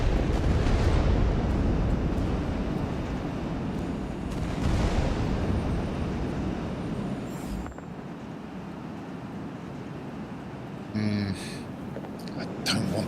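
Dropped bombs in the video game World of Warplanes burst into a heavy, sustained rumbling roar over steady aircraft engine drone, with the blasts swelling and fading and a few brief sharp sounds near the end.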